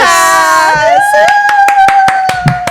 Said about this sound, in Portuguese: Palmas, palmas.